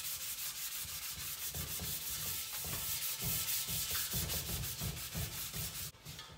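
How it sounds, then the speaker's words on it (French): Sanding car wheel rims before painting: steady, rhythmic rasping strokes close by, repeating about twice a second with a gritty scratch on each pass, heard alone. "On fait juste un petit coup de ponçage, histoire que la nouvelle peinture accroche dessus"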